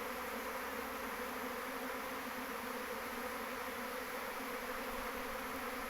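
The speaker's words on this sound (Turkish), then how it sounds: "Evet her yer böyle arı oluyor. Uçuşuyor arılarımız." A honeybee swarm leaving the hive fills the air with a dense, continuous buzzing hum, steady and unbroken, from many bees flying nearby.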